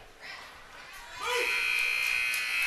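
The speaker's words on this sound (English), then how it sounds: "The buzzer goes at the end of one." Period-end buzzer at an ice hockey game sounds loud and sustained over arena crowd noise, rising from a murmur before it starts.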